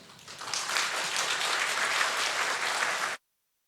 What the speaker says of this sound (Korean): 우리 목사님 나오실 때 큰 박수로 모시겠습니다